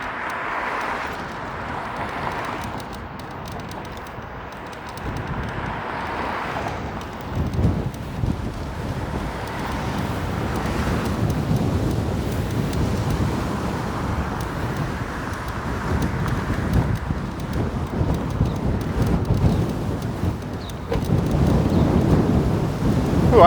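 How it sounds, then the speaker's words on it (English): Strong headwind roars across the microphone of a rider on an eScooter in midtown Toronto, a heavy, gusty low rumble that swells and builds louder toward the end, with no voices. "I am going right into a pretty strong wind right now."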